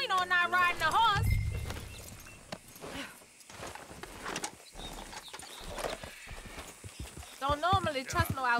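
Horse hooves in Red Dead Redemption 2 clip-clop in a steady walking rhythm beneath ongoing conversation, with voices talking near the start and end.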